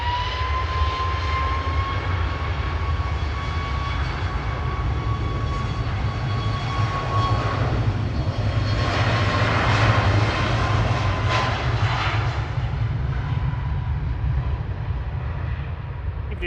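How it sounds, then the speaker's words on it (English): A Ryanair Boeing 737 Max 8 jet rolls down the runway at Manchester Airport on takeoff, a steady, loud broadband engine roar that holds and swells slightly throughout, with no talk over it. "Ryanair on the roll to Malaga now, EIHMZ and Max 8"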